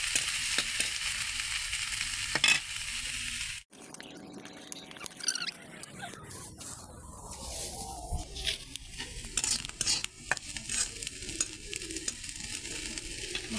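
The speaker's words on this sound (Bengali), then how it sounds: "পেঁয়াজটাও ভাজা ভাজা করে নেব বাদামি কালার হওয়া পর্যন্ত।" Onions frying in a pan while being stirred until brown for a village-style potato bhorta, giving a steady close sizzle with scraping stir strokes that come and go, briefly cut off near the start and then resuming.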